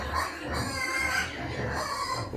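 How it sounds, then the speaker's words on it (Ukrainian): Hungarian woolly Mangalica castrated boar pigs grunt and snuffle close by, a continuous busy layer of oinks and rustling across the whole stretch, with faint talk in the background. "Це кастровані кабанчики"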